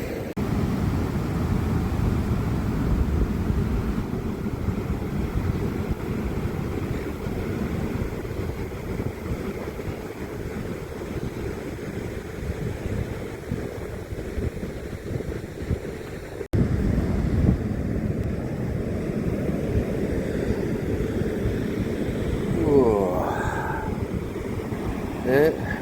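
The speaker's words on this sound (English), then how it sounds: "Wind's coming straight off the ocean there, or off the strait." Wind blows straight off the ocean, or off the strait, at a Tasmanian beach in winter, a steady buffeting roar against the microphone mixed with the wash of surf and a brief faint voice.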